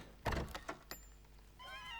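A short cat meow from the animated film Puss in Boots, faint and wavering at the end of the clip, after a few soft thumps and knocks.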